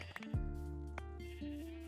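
A single sheep bleats in a wavering, drawn-out call, clear and close, with a short tonal chime-like sound starting just before it.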